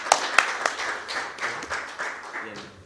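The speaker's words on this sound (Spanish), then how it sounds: "los despedimos con un aplauso" Audience at a law congress panel in an auditorium applauding, a short burst of scattered, fairly close hand claps with some murmuring underneath.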